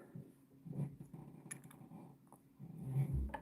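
A puppy growls in low, rumbling bursts close by, with a couple of louder grumbling swells and faint background noise.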